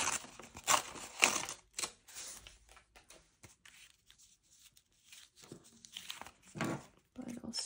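A book page is torn by hand for junk-journal embellishments. Several sharp, close ripping bursts come first, then softer paper rustling and handling noises with quiet gaps between them.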